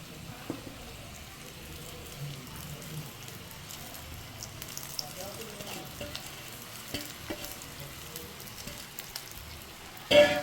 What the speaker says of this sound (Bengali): এইবার কড়কড়ে ভাতটা দিয়ে দিচ্ছি।